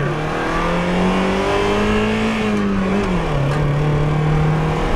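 A Mazda Miata strains as it accelerates in first gear, its engine whining loudly and steadily from close by, with the pitch rising, dipping and climbing again.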